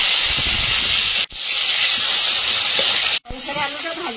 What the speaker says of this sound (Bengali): তেলে ফুলকপিগুলো ভেজে নেবো।